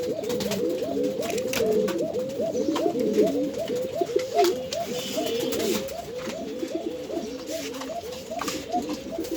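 Many pigeons coo at a pigeon farm, including Pakistani Danish pairs, in a continuous overlapping chorus of soft rhythmic coos, close and moderately loud, with no talk.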